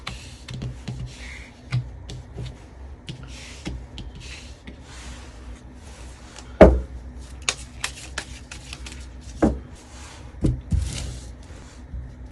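Tarot cards being shuffled and handled, with soft riffling and light tapping close by, punctuated by a few sharper knocks as the deck is squared on a table, fairly quiet overall.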